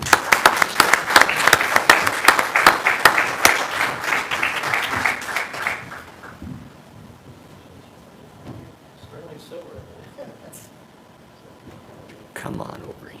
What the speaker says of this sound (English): we can get a picture and one more round of applause